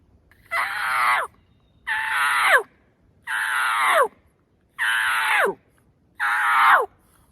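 Five loud, close turkey yelps made on a mouth call, each a raspy drawn-out note lasting under a second and ending in a downward break, separated by short even pauses with no talking.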